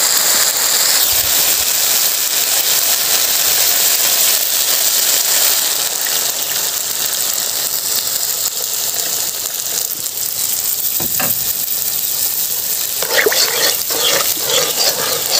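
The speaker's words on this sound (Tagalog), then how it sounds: "Ilalagay ko na yung gata." Coconut milk poured over softened vegetables sizzles in a pot on a charcoal stove, a steady loud hiss with crackling and brief clinks, rising to a busier bubbling burst near the end.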